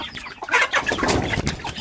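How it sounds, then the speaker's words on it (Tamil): Hens and their chicks cluck and cheep together in a farmyard, a close, busy jumble of overlapping clucks and peeps that continues without a break. "பாதி குஞ்சு அதுக்குள்ளே வெளில ஓடிச்சு"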